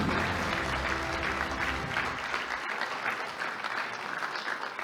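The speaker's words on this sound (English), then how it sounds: "Let's give another big round of applause for everybody who took part in EIC 2022." An audience at a National Engineers Day award ceremony for the Engineering Innovation Challenge 2022 claps in a sustained, dense round of applause that carries evenly throughout.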